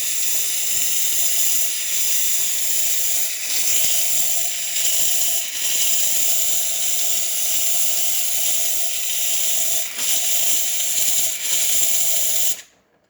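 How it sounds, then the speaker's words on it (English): A DeLonghi Prima Donna Deluxe espresso machine's steam wand releases a loud, continuous hiss of steam that stays steady for about twelve seconds and then cuts off abruptly. "the steamer one will automatically release steam"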